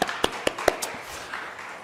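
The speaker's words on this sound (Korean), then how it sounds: "우리 두 친구 청년들한테 박수 한번 좀 주세요" A church congregation at an afternoon worship service claps for two young worship team members: a few sharp, sparse handclaps close by, then quieter scattered taps fading out.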